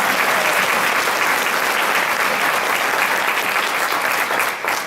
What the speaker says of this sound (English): let's give a round of applause to our servers